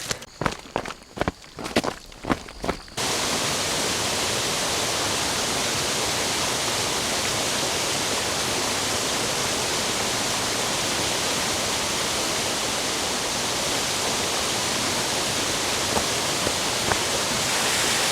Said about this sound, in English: I believe this is Upper Doyles River Falls.